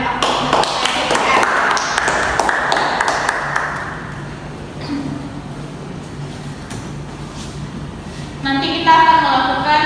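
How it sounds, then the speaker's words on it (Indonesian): Students in a classroom applauding, a burst of close, fairly loud hand claps that fades out after a few seconds, followed by quieter room noise and a voice speaking. "kita berikan aplaus"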